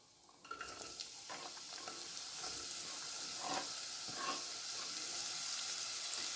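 Chopped onion and green chillies frying with mustard seeds and cumin in oil for a white pumpkin milk curry, a close bright sizzle that swells after they hit the pan, with scraping stirs and no voices.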